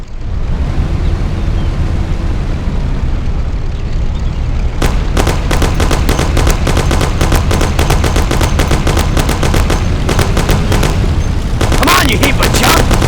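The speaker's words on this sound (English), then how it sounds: "Take my Thompson. You and Sam shoot them." A Thompson submachine gun fires in the video game Mafia: The City of Lost Heaven. After a stretch of loud rumbling, long rapid bursts of close, loud automatic fire break out and continue to the end.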